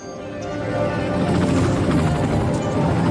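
Helicopters in the city-building game Cities Skylines produce a steady, loud rotor drone that swells in over the first second and holds constant without break.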